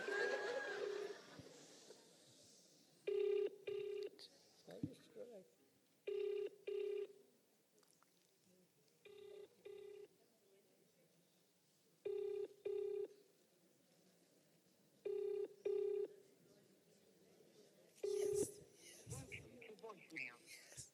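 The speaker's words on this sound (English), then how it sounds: "Oh, it's ringing." A telephone rings in repeated double bursts with pauses between them, fairly faint, with a voice briefly heard at the start and near the end.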